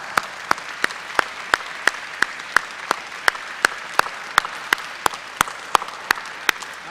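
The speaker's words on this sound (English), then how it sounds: "I want to give you a round of applause" At an enlistee recognition gala, a few people clap in a sparse, steady rhythm, sharp individual hand claps about three per second, close and distinct over quiet room tone.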